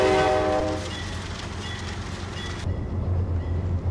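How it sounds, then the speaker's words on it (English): A GE Dash 8-32BWH diesel locomotive's horn in Train Simulator 2017 sounds a loud chord that fades, followed by a steady low engine rumble and rail noise with no talking. "these sound packs are freaking sweet. You can listen to it. This is it has a quillable horn"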